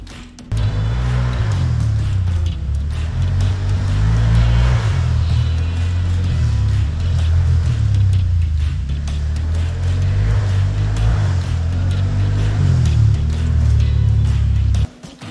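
A Can-Am Outlander 1000 ATV engine runs steadily throughout at close range, a continuous low rumble with slight throttle variations and no talking over it.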